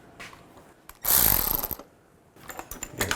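A ratchet with an 8 mm triple square socket on a long extension works the intake manifold bolts of a 2006–2010 Volkswagen Jetta, giving a loud burst of rapid clicking followed by quieter intermittent ratcheting clicks close by.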